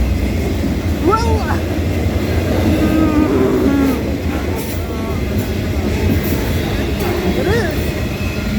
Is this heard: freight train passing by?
yes